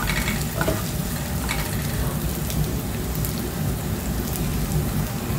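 Onion and ginger fry over a low flame in a pan for Kerala-style beef, giving a steady, even sizzle with soft stirring scrapes, close and continuous with no talking.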